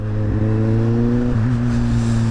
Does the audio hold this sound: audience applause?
no